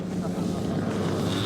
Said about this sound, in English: on final approach, Steve has his engine powered back on that 747.